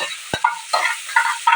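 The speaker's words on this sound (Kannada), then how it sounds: "ಈಗ ನಾವು ಹಾಕಿರುವಂಥ ಈರುಳ್ಳಿ ಏನಿದೆಯಲ್ಲ ಫ್ರೆಂಡ್ಸ್, ಅದು ಚೆನ್ನಾಗಿ ಫ್ರೈ ಆಗಬೇಕು" Onions frying in a pan for chicken biryani, with short scraping stirs and bursts of sizzle in an uneven rhythm, close and moderately loud, and a single sharp knock near the start.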